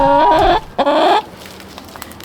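Backyard chickens cluck close and loud, two drawn-out clucks in quick succession, then quiet rustling.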